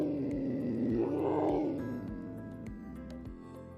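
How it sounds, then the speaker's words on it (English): A jaguar roars in a series of deep, rough grunting pulses, loud and close at first and then tapering off in repeated rasping strokes. "Here's a jaguar."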